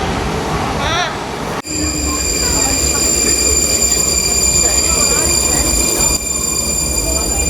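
Loud, close train rumble with steady rolling noise and high whining tones, a sharp thump near the start, and a short voice at the beginning.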